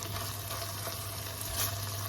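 Onions and peppers frying in a pan for an ackee and saltfish stir fry, giving a steady, moderate sizzle with a low hum underneath and no talking.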